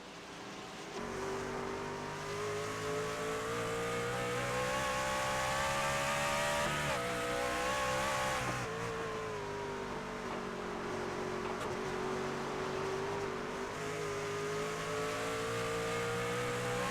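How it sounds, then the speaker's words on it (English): Roaring V8 truck engines racing at Lime Rock Park in iRacing hold a steady high pitch, rising and falling as they rev, loud and continuous with no voices. "let people listen to that beautiful V8 sound"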